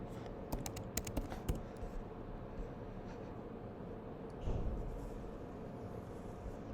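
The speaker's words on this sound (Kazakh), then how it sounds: "И әдіспанның паролін жазам." Quick bursts of keystrokes on a computer keyboard as a password is entered, clustered clicks in the first couple of seconds, then sparser taps over a steady low background hum, fairly quiet and close.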